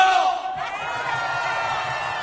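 Loud crowd shouting at a packed outdoor Korean political rally of flag-waving protesters, a dense wall of voices and cheers that swells briefly, dips, then holds steady.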